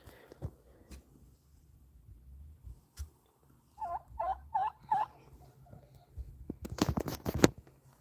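A quick burst of four gobbling calls from a turkey, fairly faint, followed by a rustling, flapping flurry of feathers.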